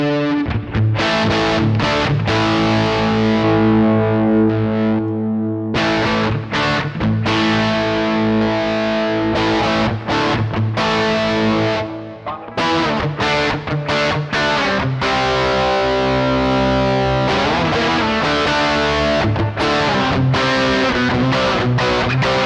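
An electric guitar runs through a Tech21 FlyRig 5 Plexus distortion, playing loud, sustained overdriven chords and riffs continuously with short gaps between phrases.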